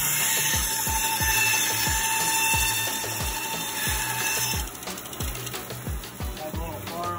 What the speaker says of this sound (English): Now we're going to cut the dowel into 2 45 angled pieces to then put on the original piece.